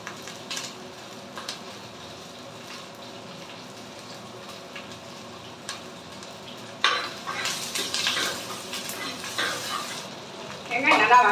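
Onions and curry leaves fry in a pan in a home kitchen, a soft steady sizzle punctuated by scraping stirs and clinks of a utensil against the pan, growing busier toward the end.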